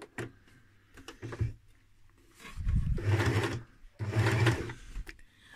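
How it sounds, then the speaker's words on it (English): Domestic sewing machine top stitching leather, its motor whirring and needle thumping in short runs with pauses between, close up and fairly loud. "I hope my machine gonna be happier when we gonna run the top stitching."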